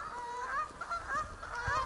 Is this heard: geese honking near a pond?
yes